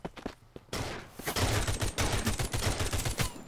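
Gunfire in the video game Capsular: a quick opening shot, then a dense rapid burst of automatic fire rattling on for a few seconds, loud and alone without talk.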